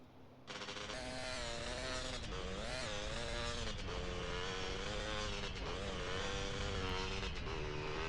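A motorcycle engine drones and revs in the video game GTA San Andreas, a buzzy, continuous whine that rises and dips with throttle changes throughout, with no voices over it.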